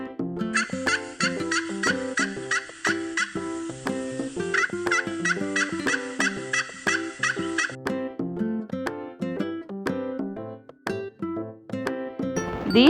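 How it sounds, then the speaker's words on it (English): A turkey gobbles in quick rattling bursts, repeated several times over light, bouncy background music. "The turkey has funny feathers."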